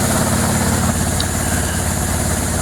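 A 100 CFM air compressor running to feed a grit blast pot, a loud, steady mechanical drone with a rough low throb that holds unchanged throughout, heard close with no talking.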